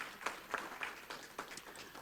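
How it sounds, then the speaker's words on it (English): Sparse, faint applause from a conference audience, with scattered individual claps spaced irregularly rather than a full ovation, heard at a distance. "Let's give her a round of applause, please."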